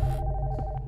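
A telephone ringing inside a video game's house, a short steady electronic ring tone with a low hum beneath, heard alone for about a second.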